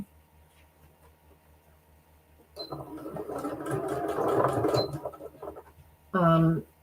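A sewing machine stitching the closed edge of a stuffed fabric pillow made from a fat quarter, running as one steady whirring burst of about three seconds, close and clear, with a short voice afterward.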